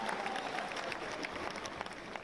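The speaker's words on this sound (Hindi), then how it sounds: "जरा तालियां बजाकर उसका भी अभिनंदन करो।" Applause from a crowd at a Kshatriya community gathering, a dense steady patter of many hands clapping at moderate distance, sustained without a break.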